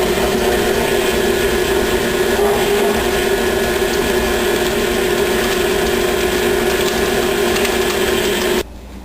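An electric mixer beats cake batter of creamed butter, sugar and eggs, a steady loud whirring drone with a faint rhythmic rattle, running alone and cutting off abruptly near the end.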